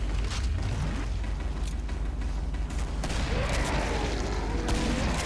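Rapid bursts of gunfire in the video game Killing Floor crackle and boom continuously amid explosive rumbling, with a faint voice now and then underneath.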